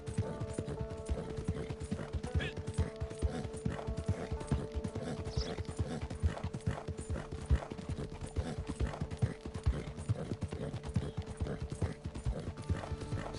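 Steady, rhythmic clip-clop of horse hooves riding along in Red Dead, close and continuous throughout, with no talking.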